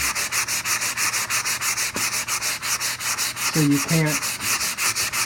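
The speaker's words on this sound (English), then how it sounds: "I've been using 100 grit sandpaper like I have been this whole project, and it's just trying to feather it out" Close, steady rhythmic strokes of 100 grit sandpaper rubbing over plastic filler patched into wood, a regular back-and-forth scratching with a few brief words spoken partway through.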